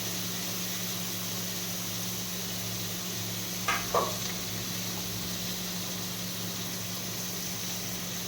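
Chow mein stir-fries in a pan with a constant, even hiss of sizzling oil and a low steady hum underneath. Chopped ginger goes in midway with two brief clinks.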